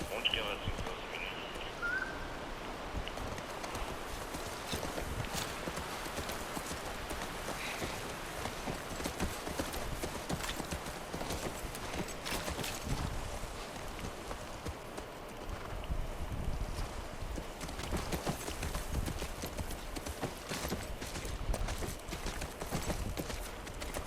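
Horse hooves clip-clop steadily in The Last of Us video game on a rural ranch setting, a continuous moderate rhythm running through the whole stretch beneath ambient game sound and occasional talk.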